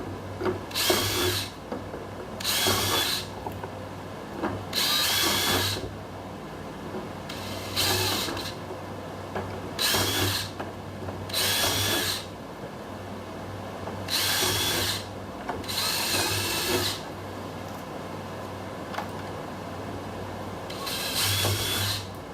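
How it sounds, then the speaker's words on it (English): A power drill drives screws into a Max Air roof vent on a 5x10 teardrop camper, with about nine short, close whirring bursts separated by brief pauses and no talking. "I'm going to probably put some extra screws in here."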